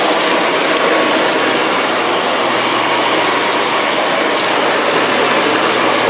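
A Dyson vacuum cleaner runs steadily with a loud, constant whirring roar and a high whine, just unclogged of dog hair, with no talk over it.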